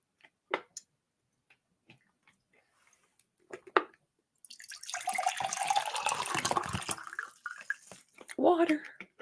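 Water is poured in a steady, splashing rush lasting several seconds, preceded by scattered soft clicks and taps in near silence, with a faint voice-like sound at the end.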